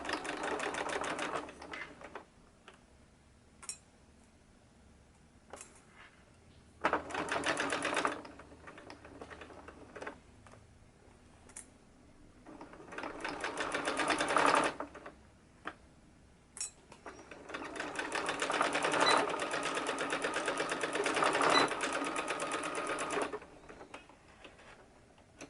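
A sewing machine stitches a book page holder for a junk journal in several bursts of rapid needle chatter, stopping and starting as it backstitches, fairly close and moderately loud with quiet gaps between runs.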